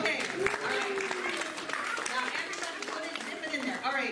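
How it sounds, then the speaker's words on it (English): Congregation applause at a church gathering, a steady wash of clapping with children's voices and chatter mixed in throughout. "I think we need a round of applause for that."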